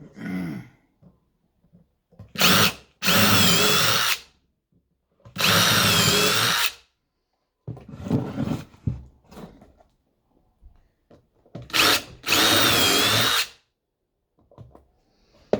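Several loud bursts of a power drill whirring, each lasting about a second, separated by quieter pauses with faint handling noises.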